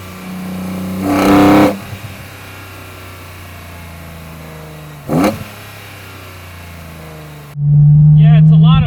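A BMW M engine fitted with an Evolve carbon airbox idles under a low drone, then gives two short, sharp revving barks on downshift blips, with a louder burst of sound at the very end.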